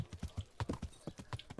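Rapid, regular hoofbeats of a galloping horse in the video game Kingdom Come: Deliverance, crisp and close, with no talk over them.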